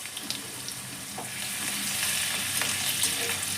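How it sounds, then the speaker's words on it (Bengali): Garlic and ginger fry lightly in oil in a pan while a vegetable stew is being started, giving a steady soft sizzle with occasional faint stirring scrapes, growing slightly louder over a few seconds, with no talking. "রসুন আর আদাটা হালকা করে ভেজে নিই।"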